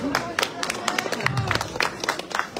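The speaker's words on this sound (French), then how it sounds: "on peut l'applaudir pour cette phrase s'il vous plaît" Audience at a magic and mentalism show in Langeac applauds briefly, a brisk round of many hands clapping in a hall with some crowd murmur beneath.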